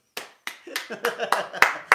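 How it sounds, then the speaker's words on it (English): A small group of people seated and clapping in applause, several bursts of hand claps quickening into a steady rhythm, close and loud. "I give them the ovation, the sitting, clapping ovation for that one"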